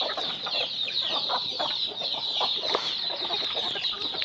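Farm chickens cluck and chatter in a coop as chicks are released, a busy, fairly close chorus of overlapping clucks throughout.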